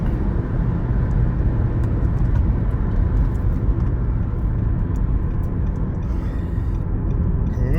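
A Nissan Rogue with a CVT accelerates on the road: a steady, loud engine drone with constant road rumble and no gear-shift breaks, heard from inside the car.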